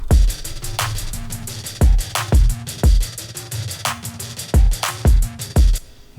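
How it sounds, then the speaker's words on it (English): Hip-hop drum mix with a drum room effect adding ambience: punchy kicks, snappy snares and steady hi-hats in a looping groove, loud and alone with no talking. "I'll show you how the drums sound like with or without the drum room"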